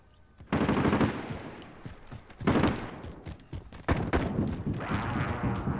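Heavy automatic suppressing fire in Call of Duty: Modern Warfare Warzone, loud bursts coming in several long volleys separated by short pauses, with no talking.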